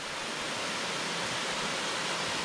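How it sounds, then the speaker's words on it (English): A cascading waterfall beside the Appalachian Trail pours in a steady, dense broadband rush, close and continuous with no voices over it. "It's a pretty cascading waterfall."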